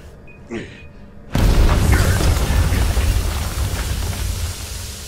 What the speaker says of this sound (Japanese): じゃあ、爆発しましょう。